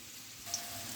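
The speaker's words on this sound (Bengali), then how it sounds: "আলুগুলো যতক্ষণ ভাজা হচ্ছে" Potatoes frying in a pan for a vegetarian paneer dish, a steady soft sizzle with fine crackling throughout, fairly quiet and close, with no talking.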